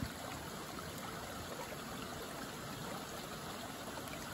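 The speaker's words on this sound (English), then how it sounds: "Next to the babbling brook, no less." A babbling brook flows beside a hiking trail that runs into suburbia, giving a steady, even rush and trickle of water close by with no talk over it.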